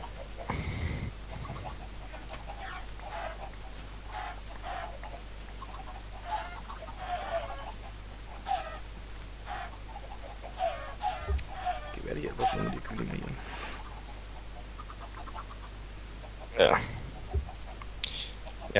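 Chickens clucking in Minecraft, scattered short clucks and squawks that come and go over a steady low hum, with people talking intermittently between them.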